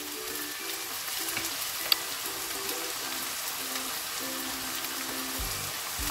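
Soy sauce goes into a pot of glass noodles and sausage, where it makes a faint, steady sizzle with soft clinks and stirring noises, and no one talks.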